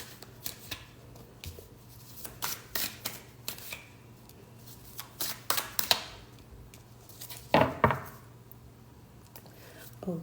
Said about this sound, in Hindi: So let's take out cards for you.